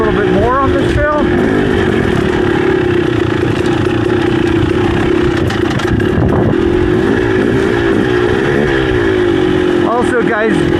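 Off-road dirt bikes, a Beta 300RR and a KTM 300XC, ride a trail. A loud, close two-stroke engine drones and revs continuously, rising and falling in pitch, while someone talks over it.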